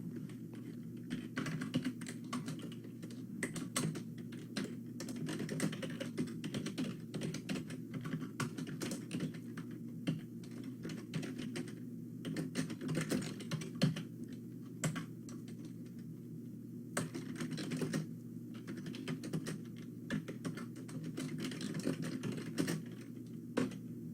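Steady, continuous keystrokes on a computer keyboard while C code is typed, a dense close-up clatter with occasional louder key hits over a constant low hum, no voice.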